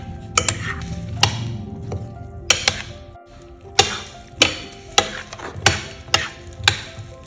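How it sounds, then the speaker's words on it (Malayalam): Korean fruit punch being stirred in a bowl, a spoon striking the sides in sharp, irregular clinks, about a dozen taps spaced over several seconds, close and clear. "ഇനി ഒന്ന് മിക്സ് ചെയ്യാം എല്ലാം കൂടെ"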